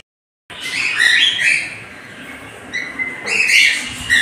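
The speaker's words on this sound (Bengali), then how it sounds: "অস্ট্রেলিয়ান ককটেলগুলো, আর্জেন্টিয়ান পাখিটা, অস্ট্রেলিয়ান কাকাতুয়া" Bright, shrill calls and chirps from cockatiels and cockatoos ring out in bursts after a brief silence, several birds squawking near the microphone with no talking.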